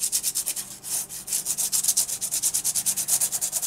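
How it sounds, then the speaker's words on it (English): Sandpaper rubs lightly over the raised parts of an embossed card for a junk journal, a rapid run of about two dozen short, even, hissing strokes at close range with no talk. "you're just going to very lightly take the sanding paper and rub it over the raised parts of your embossing"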